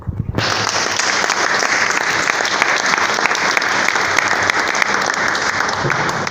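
An audience bursts into loud, sustained applause after a Smart Board interactive whiteboard demonstration in Kinshasa, dense clapping that starts abruptly and continues steadily throughout.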